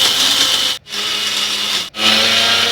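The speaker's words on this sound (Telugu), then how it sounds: "ఇప్పుడు నేను వీటిని మిక్సీ జార్లో వేస్తున్నాను" A kitchen mixer grinder whirs loudly as it grinds roasted flaxseeds with salt into spice powder, running in three steady bursts separated by two short stops.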